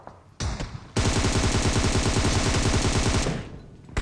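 Game gunfire, a shotgun fight in a first-person shooter: a short burst, a brief gap, then a loud, steady stream of rapid shots lasting over two seconds before cutting off.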